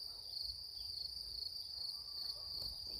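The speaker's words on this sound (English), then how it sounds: "I hope you can also hear the cricket choir." Crickets chirp in a steady, dense chorus at close range, a continuous high shrill with faint low rustling underneath, heard outdoors among stripy shield bugs.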